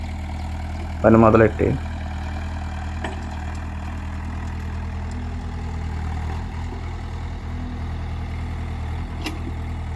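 An excavator digs out a large embankment in a pond, its engine holding a steady low drone throughout, with a short burst of talk near the start.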